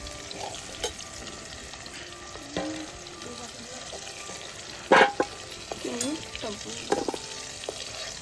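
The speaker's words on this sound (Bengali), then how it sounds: "আলুগুলো আমার ভাজা হয়ে গেল এবার আমি আলুগুলোকে তুলে নিচ্ছি" Potatoes hiss and crackle in hot oil over a wood-fired clay stove, a steady sizzle with a sharp clatter of the spoon near the middle as they are lifted out and several lighter scrapes and knocks after.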